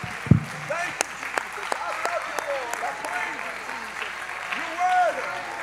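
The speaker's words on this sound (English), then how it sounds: "I'm glad some of you are clapping" A church congregation claps in scattered, uneven bursts during worship, while a voice carries over the clapping.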